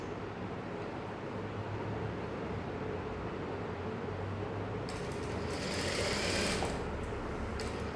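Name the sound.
sewing machine stitching a folded saree edge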